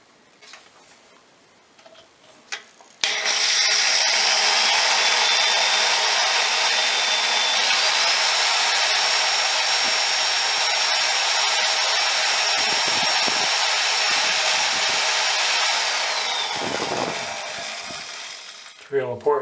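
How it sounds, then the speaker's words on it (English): A power drill boring holes into oiled, taped-over bathroom tile during grout and drain repair, running as a loud, steady whine for about fifteen seconds before slowing and stopping, with brief sounds before and after. "That's going to tell me when I need to stop drilling."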